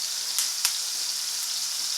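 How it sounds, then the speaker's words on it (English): Food sizzles steadily in a frying pan with sriracha added, a close, continuous hiss broken by a couple of brief louder pops and spatters. "zoom in on the sizzling of that fucking pan"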